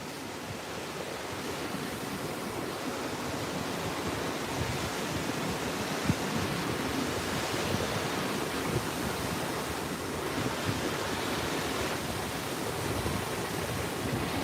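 Gentle surf on the Texas Gulf Coast at Padre Island breaks in a constant, even wash of small waves, with light wind over the shore and a faint thump now and then, no talking.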